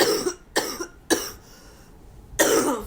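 Several sharp coughs from one person, close and fairly loud: two quick bursts, a third after a short pause, then another cough after a longer gap of quiet.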